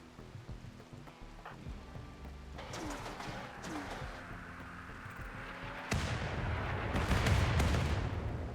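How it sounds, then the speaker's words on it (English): Artillery salvo firing in the RimWorld video game, a series of low booms and rumbling impacts, with a louder, denser burst of blasts near the end, fairly distant and muffled. "Prepare to fire a second salvo right there."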